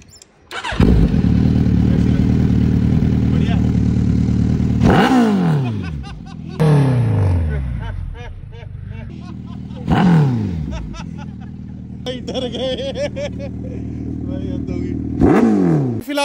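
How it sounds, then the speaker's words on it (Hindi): A Suzuki Hayabusa superbike engine roars and revs up close, with repeated throttle blips and falling rev-downs, voices murmuring faintly in the background. "कौन सी बाइक है? हायाबुसा, एक लौती सुपर बाइक है जिसको हर कोई जानता है भाई"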